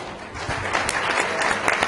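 An audience at a family planning conference in Nigeria applauds continuously, a dense, close wash of many hands clapping at steady loudness for the whole moment.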